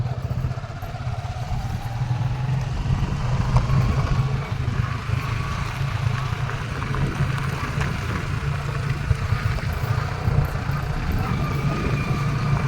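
A tractor's engine rumbles steadily and fairly close on a paved blacktop road by a canal in rural Madhya Pradesh farmland, a continuous low, rattling drone with no pause.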